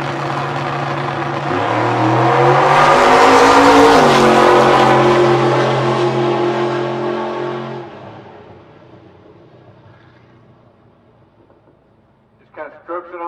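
A drag racing car launches and roars down the strip, engine loud and rising in pitch for several seconds before fading into the distance, with a commentator talking over the run.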